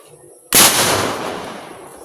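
A homemade lantaka cannon fires once in a rice field to scare off sparrows: one sharp, loud boom after a quiet start, then a long fading rumble and echo.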